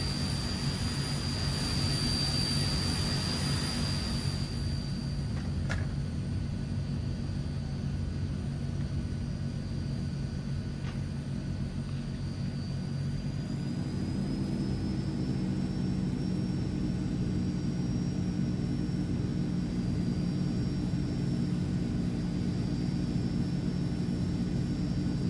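A Transall C160 in Microsoft Flight Simulator drones steadily on its engines during takeoff, with a constant low rumble and a whining tone that shifts higher partway through, close and loud with no talking.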